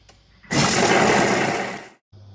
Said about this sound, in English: This all will be whisked up for about maybe 15 seconds on speed 5